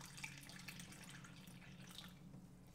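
Cold water trickles steadily through a funnel, a soft continuous splashing and dribbling flow heard up close and alone.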